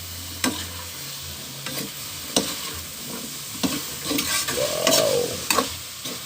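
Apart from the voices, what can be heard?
stirring adobong takway in a pan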